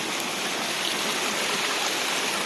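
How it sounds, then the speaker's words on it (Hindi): A waterfall in Uttarakhand, a steady close rushing roar of falling water that fills the whole stretch with unbroken white noise, with no voices over it. "अभी आपको दिखाते चलते हैं झरने पूरे।"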